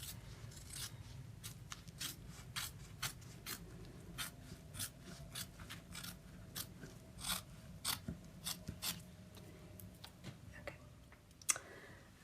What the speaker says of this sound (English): we're going to cut right along the top like we did with the